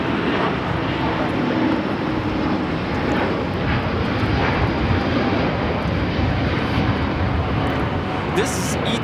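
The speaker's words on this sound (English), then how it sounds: "This is ITA Flight 621 taking off to Rome on the A350-900" An ITA Airways Airbus A350-900 takes off from Los Angeles LAX bound for Rome, a steady broad roar of jet engines holding loud and even throughout, with voices talking underneath.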